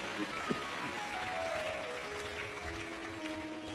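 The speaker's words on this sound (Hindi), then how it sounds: "एक बार जोरदार ताली बजाओ।" Audience applause at a Shiv Mahapuran katha, a steady, dense wash of clapping from a large crowd that holds evenly for the whole stretch, fairly far off and without clear individual claps.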